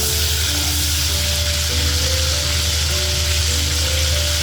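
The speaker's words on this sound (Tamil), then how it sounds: "இந்த கருவாடு எல்லாத்தையும் போட்டு ஒரு அரை பொரியலாக பொரித்து எடுத்துக்கோங்க" Dried seer fish, vanjaram karuvadu, half-frying in hot oil, giving a loud, continuous close sizzle that stays even throughout with no voices.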